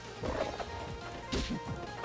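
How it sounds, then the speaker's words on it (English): A thrown rock from Kragg in Rivals of Aether smashes apart with a short crunching crack, followed by a second sharp shatter about a second later, set in quiet game sound. "The rock ends up getting parried, but then shattering on MSB's advance."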